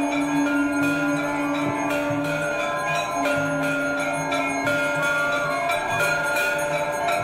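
Temple bells ringing during an aarti, repeated metallic strikes with long ringing tones that overlap in a steady rhythm, loud and close with no talk.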